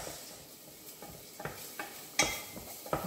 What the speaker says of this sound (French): Donc on fait rissoler notre petite échalote.